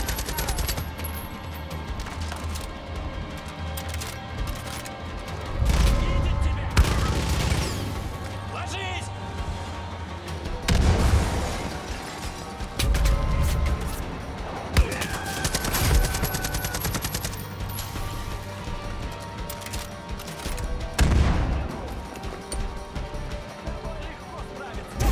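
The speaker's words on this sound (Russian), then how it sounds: "Сзади стреляет." Gunfire erupts from behind in Far Cry 5, loud bursts of rapid shots and heavy impacts arriving in several clusters over a tense game soundscape, with someone talking over much of it.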